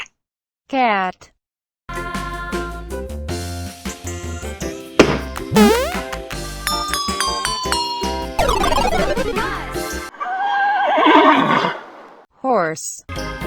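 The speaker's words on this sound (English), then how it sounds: "Horse." Cartoon horse whinnying during a children's farm-animal song, a loud quavering neigh near the end, heard alongside bouncy music and knocking sound effects.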